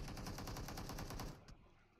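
Rapid automatic gunfire in PUBG Mobile, a fast even burst of about a dozen loud shots that ends abruptly, followed by one last distant crack and faint background noise.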